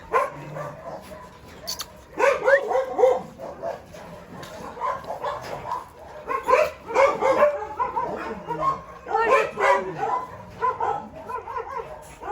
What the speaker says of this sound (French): ça fait juste grave mal au cœur de voir tous ces chiens enfermés et qui attendent l'adoption